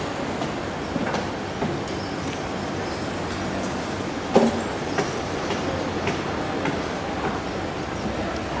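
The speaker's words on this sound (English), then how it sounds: "There's one train coming in. And then it just goes like that." A Hong Kong tram pulls into a stop with a steady rumble of wheels on rails, blended into busy street ambience, with a brief clank near the middle.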